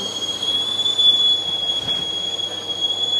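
A steam whistle from a rice cooker or coffee percolator holds one steady, shrill, unbroken tone for the whole stretch over a low background hiss, with no talking.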